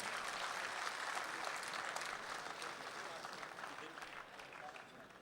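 Applause at a mushaira in Dubai welcomes Dr. Anwar Jalalpuri to the stage, a dense wash of clapping from a large audience that holds steady and then slowly fades.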